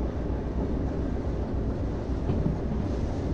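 A heavy freight train rolling downhill in Derail Valley, a steady deep rumble of wheels and wagons with a constant low roar and no breaks, close and loud throughout.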